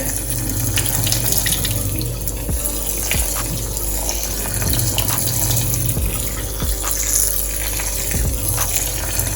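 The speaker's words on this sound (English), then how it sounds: "Wash my rice until the water runs clear." A kitchen tap runs hard into a sink while rice is washed Jamaican-style, a loud, constant gush of water that continues unbroken from start to finish with no talking.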